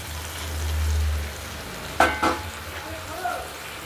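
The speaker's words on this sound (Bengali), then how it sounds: "চিংড়ি মাছটা দিয়ে একসঙ্গে কষিয়ে" Prawns and taro curry being stir-fried in a pan, a low steady sizzle with a few sharp scrapes and clinks of a spatula against the pan, close up.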